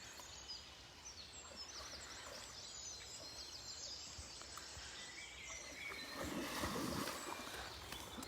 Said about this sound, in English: Can you hear the birds now?